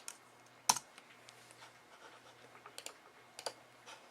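Someone types on a computer keyboard to name a new project, producing quiet, irregular key clicks with a few sharper taps and short bursts, close and alone.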